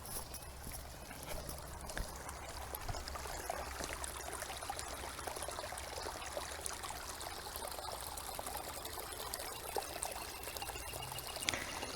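A North Idaho creek fed by Deep Creek flows steadily nearby with a continuous trickling, gurgling rush, evenly sustained without pause.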